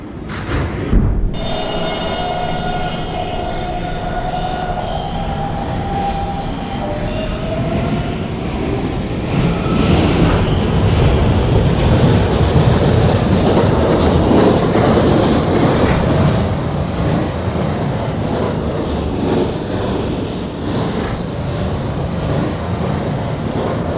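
An R152 subway train running in the Roblox game PTA Classic on the Kennedy lines: a steady rumbling rail roar with clattering wheels and rising motor hum, opening with a short door-chime tone before the train gets underway.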